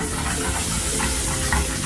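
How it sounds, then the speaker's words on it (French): Onions and blanched lardons fry in butter in a pan, giving a loud, steady, close sizzle with faint stirring scrapes and no talking. "nous allons revenir les oignons avec les lardons blanchis à la poêle"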